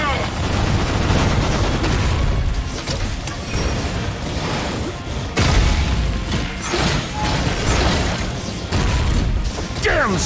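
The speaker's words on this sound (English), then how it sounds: "Eat my missile!" A missile is fired in the video game Forged in Shadow Torch, loud booming blasts and mechanical bursts that come in repeated heavy waves with short dips between them.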